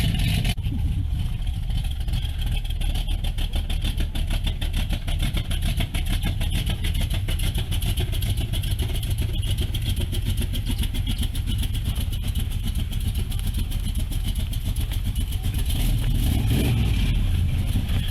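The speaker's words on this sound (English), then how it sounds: "a four-wheel drive that sounds like a pro stocker" A four-wheel drive truck engine with a pro-stock-like sound runs loud and close, a rough, continuous throb with a choppy lope, rising slightly in intensity near the end.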